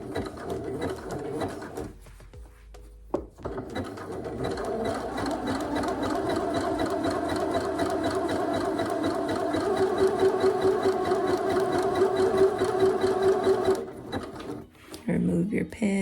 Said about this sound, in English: go ahead and start stitching, go ahead and back stitch, and then continue slowly all the way around your neck facing